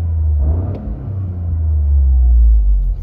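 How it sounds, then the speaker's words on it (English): 2023 Toyota GR Corolla Core engine gives one rev, a deep, loud rumble swelling and holding for a few seconds, up close with no talk. "let's just give it one good rev so you can give it a nice listen"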